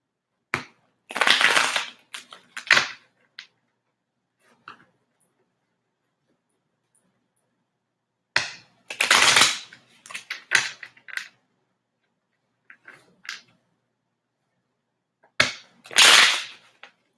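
Tarot cards being shuffled by hand, coming in three separate bursts of riffling, slapping card noise at close range, each lasting a couple of seconds with silent pauses between them.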